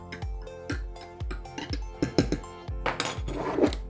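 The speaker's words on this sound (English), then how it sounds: "Give it another little stir." A spoon stirring a mocha drink of chocolate and steamed milk in a cup, with a series of light, rhythmic clinks against the sides, close and clear with no talking.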